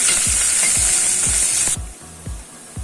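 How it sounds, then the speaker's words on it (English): Chopped onion sautés in hot oil for khichdi, a loud close sizzle with rhythmic stirring scrapes about every quarter second, the hiss dropping sharply partway through while the stirring goes on. "When the oil get heated, let us add chopped onion and saute it for a minute or 2"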